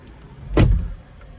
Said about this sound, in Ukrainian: Я зараз двері закрию